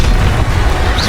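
Bombarda spell explosion in Hogwarts Legacy, a single loud, dense low boom filling the whole moment with a rumbling burst.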